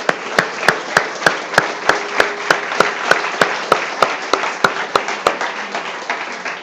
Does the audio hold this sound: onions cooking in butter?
no